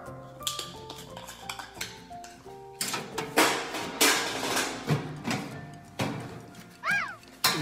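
Metal chafing dish fuel cans being set down under a catering pan, giving a series of clanking and knocking taps of tin against metal, with tonal ringing and a few louder thumps.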